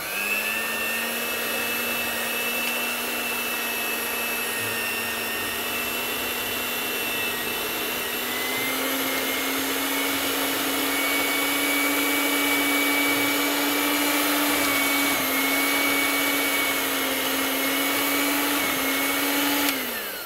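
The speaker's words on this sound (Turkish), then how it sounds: "ve mikserimizi yavaş" A steady electric mixer whine runs throughout at low speed while mixing cookie dough with margarine, constant and fairly loud, with a slight rise in pitch partway through.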